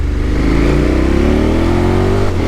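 Motorcycle exhaust heard loud and close while riding, a steady revving engine drone with rising pitch as it accelerates, continuous throughout.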